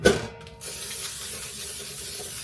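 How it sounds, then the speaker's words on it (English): A steady hiss of nonstick cooking spray from an aerosol can follows a brief click, continuing evenly for a couple of seconds. "I'm just going to spray it with some nonstick just to make it a little bit easier"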